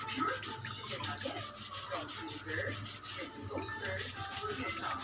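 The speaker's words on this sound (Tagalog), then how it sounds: "Kailangan guys, maraming beses mo kung kuskusin hanggang sa pumuti" Repeated hard scrubbing of a ceramic water filter, a steady rhythmic rubbing and rasping that runs throughout at close range with a wet, gritty texture and no talk.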